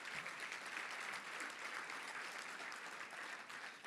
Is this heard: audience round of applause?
yes